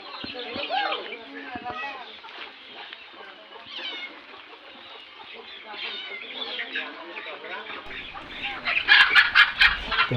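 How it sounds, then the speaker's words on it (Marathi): Village desi hens in a tribal area cluck and squawk near and far while people talk over them, with a louder burst of bird calls near the end. "इकडे यांच्या कोंबड्या एक एक यायला सुरुवात झालेली आहे"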